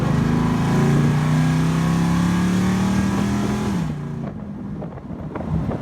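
A Revology car with a Borla exhaust built for it accelerates close by, its engine note climbing steadily for about four seconds before the revs drop away and the engine settles down.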